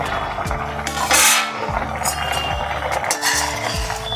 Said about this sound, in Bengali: ঢাকনাটা খুলে দেখে নিচ্ছি